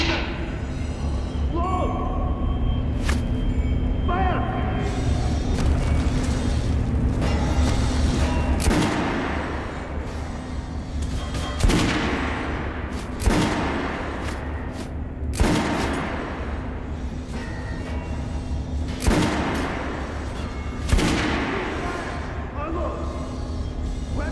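Gunfire on a shooting range in the video game Metro Last Light, with repeated sharp reports spaced a few seconds apart over a steady low rumble, with a voice speaking early on.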